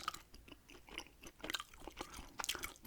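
Close, wet gum chewing in a quiet room, with soft smacks and squelches in an uneven rhythm and small crackling snaps, intimate and alone with no talk.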